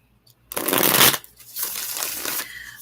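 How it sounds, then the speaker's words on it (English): Someone shuffles a tarot card deck: a loud riffle burst, then a longer, softer stretch of cards sliding and shuffling close up. "as I shuffle my tarot decks right now"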